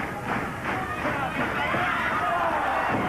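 A crowd at a British wrestling bout between Mark Rocco and Mal Sanders cheers and murmurs in a steady roar that swells and fades, filling the background behind the action.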